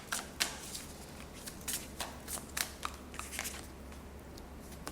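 Tarot cards shuffled by hand in a quiet room, a run of soft papery riffles and flicks with irregular bursts, close and fairly faint, no talking.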